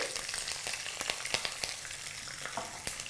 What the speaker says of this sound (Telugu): ఈ పచ్చిమిర్చిని నూనెలో వేసేయాలి